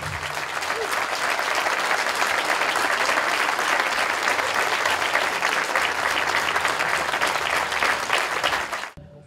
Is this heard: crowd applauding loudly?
yes